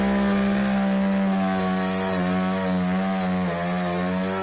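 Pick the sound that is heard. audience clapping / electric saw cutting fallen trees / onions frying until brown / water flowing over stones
electric saw cutting fallen trees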